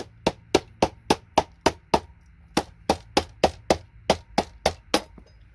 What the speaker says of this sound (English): So a few taps with the hammer, comes out nice and clean.